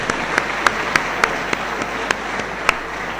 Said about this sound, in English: Shall we continue clapping for the chairperson?